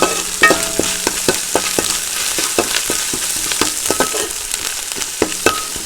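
Mustard seeds, dried red chillies and curry leaves crackle and sizzle in hot oil as a spoon stirs them, with repeated sharp scraping strokes over a constant close fry and no voices.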